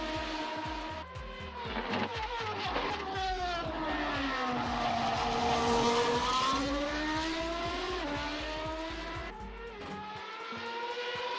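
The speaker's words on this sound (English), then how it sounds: "A little bit squirmy under the acceleration, but that V8 is something to behold" A 1993 McLaren MP4/8 V8 Formula One car in Assetto Corsa, its engine loud and close throughout, revving up in a rising, sustained scream with gear changes and a dip near the end.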